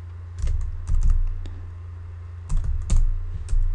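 Someone types on a computer keyboard while editing a spreadsheet cell, producing a few short bursts of close key taps separated by pauses, alone without speech.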